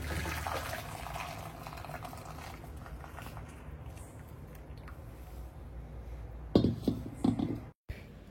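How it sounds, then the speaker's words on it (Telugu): Hot water poured out of a cast iron pan during seasoning, a steady splashing, gushing flow into a sink that runs for several seconds before a few clanks and a brief stop. "ఇప్పుడు ఇది వాటర్ అంతా వంపేసి మనం వాష్ చేసుకోవాలి నీట్గా"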